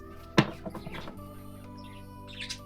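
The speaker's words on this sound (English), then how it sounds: "Sorry, I feel like I'm shouting over these birds." Birds chirping outdoors, a sharp loud chirp near the start followed by fainter scattered tweets and calls in the background.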